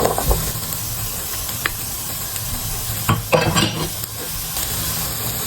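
Garlic cloves and bell peppers sizzling in olive oil in a pan, a loud steady hiss with a burst of sharper crackling and stirring scrapes partway through.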